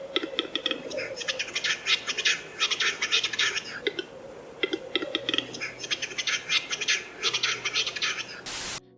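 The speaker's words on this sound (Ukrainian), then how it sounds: "Спів глухаря зовсім не схожий на спів інших птахів" Western capercaillie display song in a forest: bursts of dry clicking and rattling phrases that come in two long runs, fairly close, with a voice speaking over them.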